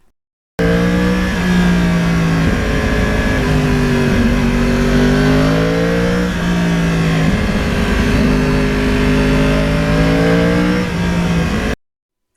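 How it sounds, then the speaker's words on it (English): Yamaha R1 crossplane four-cylinder motorcycle engine revving, loud and close, its pitch rising and falling through several throttle blips over a steady rumbling drone, then cutting off abruptly. "that is the way Yamaha has this engine delivering the power"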